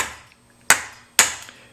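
A hammer strikes the outside of a copper vessel being raised, three sharp, close metallic blows spaced about half a second apart, each ringing briefly before the next.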